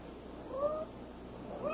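A cat meows twice, each a short rising-falling cry, close and fairly clear over a faint background hum, with no voices over it.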